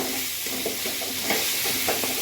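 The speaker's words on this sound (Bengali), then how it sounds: "সেই ফুলকপিগুলো দিয়ে দেবো, দিয়ে একটু ভালো মতো মিনিট 2 কষাবো" Fried cauliflower stirred in a pan of hot oil, a steady sizzle overlaid with repeated scraping strokes of the spatula, close and continuous.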